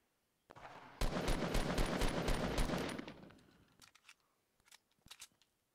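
A rapid burst of gunfire from a Fortnite Battle Royale match lasts about two seconds and trails off, and a few scattered single shots follow. The sound is crisp and sharp and no voice is heard over it.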